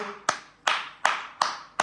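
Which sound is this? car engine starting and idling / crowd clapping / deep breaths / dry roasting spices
crowd clapping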